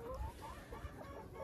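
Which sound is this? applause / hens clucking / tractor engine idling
hens clucking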